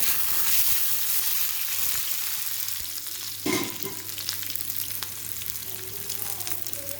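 Crushed garlic, skins still on, sizzles and crackles in hot oil for tomato rasam, a steady close hiss of frying with occasional stirring scrapes and pops and no talking.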